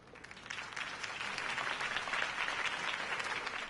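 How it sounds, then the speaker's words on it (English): Crowd applause after a campaign speech in a Batman video game, a dense, sustained wash of many hands clapping that swells and holds at a steady, fairly loud level with no voices over it. "If only Mr. Wayne, my campaign's largest backer, could have heard that applause"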